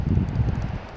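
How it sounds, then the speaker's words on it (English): Wind rushes outdoors by the water, a loud, low buffeting that batters the microphone for a brief moment with no speech. "I really hope you guys can hear me because it is kind of windy."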